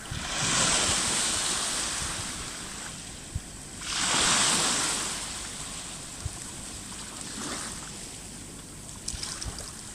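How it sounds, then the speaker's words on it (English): Ocean waves rolling onto the shore at Kinlochbervie, broad surging washes that swell and recede in slow cycles, with wind buffeting the microphone and no voices. "Each tide, each wave, in and out."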